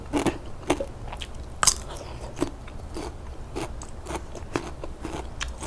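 Close, loud crunching bites into crispy fried pork belly, several sharp crackling bites spaced irregularly over a quiet room background, with softer chewing crunches in between.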